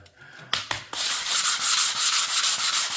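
A couple of scraping strokes, then steady rhythmic 180-grit sandpaper rubbing back and forth on marmorino plaster, close and continuous.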